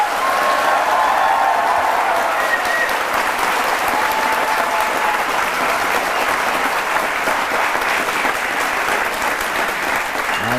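A studio audience claps in a sustained, dense burst of applause that stays loud and even for about ten seconds, with faint crowd murmur underneath.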